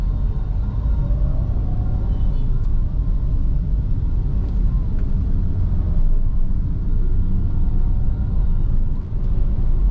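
Toyota Calya 1.2 G automatic pulls away from a green light in Indonesian traffic, a steady low cabin rumble of engine and road noise that holds loud throughout with no talk.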